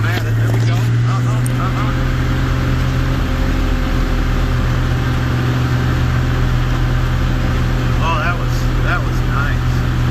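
A 7060 tractor with a 301 motor hauls a load of grain up a hill with its pump freshly adjusted. Its engine drones loud and steady without a break while someone talks over the constant rumble.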